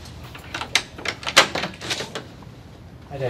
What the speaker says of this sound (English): Can you open the door a second, mate?